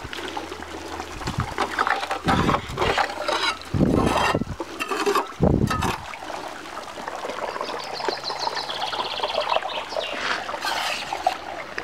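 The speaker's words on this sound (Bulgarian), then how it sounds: "Тук се сливат двете реки." Confluence of the Kamenitsa and Sopotska rivers, a steady broadband rush of flowing water running throughout, close and fairly loud, with brief louder splashes and wind buffets early on.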